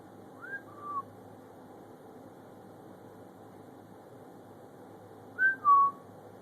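A pet bird gives two short whistles, each a rising note followed by a falling one. They are clear but fairly soft, set apart by a long quiet gap over faint room hum.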